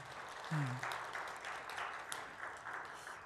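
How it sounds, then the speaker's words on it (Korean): A congregation at a Korean Sunday afternoon church service gives a short round of steady clapping, a soft, even patter throughout, with a brief voice near the start. "박수 한번 보내줍시다."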